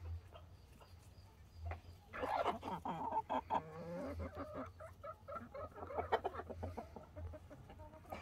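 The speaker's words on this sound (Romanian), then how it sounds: "Asta e o găină bătrână de la el." Hens cluck and chatter nearby in a loose, uneven series over a faint low hum.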